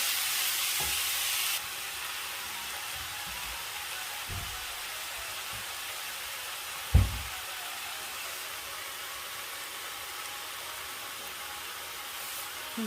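Red amaranth leaves cook in a pan with a faint, steady sizzle and hiss, broken by a few soft stirring scrapes and one sharper clack of a utensil, with no talk.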